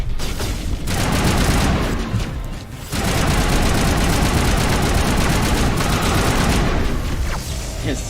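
Sustained assault rifle fire in the Mass Effect Legendary video game, a loud continuous fusillade that runs almost unbroken for the whole stretch, with one short lull partway through.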